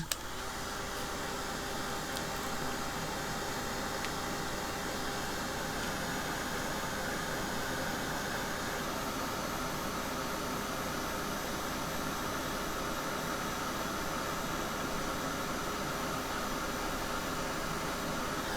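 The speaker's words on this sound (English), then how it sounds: "So I'm just going to go over it with my dryer." A heat tool for drying craft ink blows a steady, loud whooshing stream of air over freshly inked archival ink on a botanical paper tag. It runs continuously with no talking.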